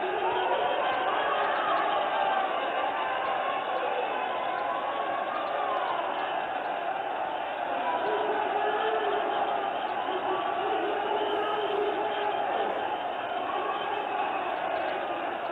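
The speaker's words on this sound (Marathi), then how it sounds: "नागा साधूंच्या दर्शनासाठी लाखो भाविकांनी संगमावर गर्दी केली." Lakhs of devotees gather at the Sangam to see the Naga sadhus: a dense, steady murmur of many voices and chatter fills the air, with no single voice standing out.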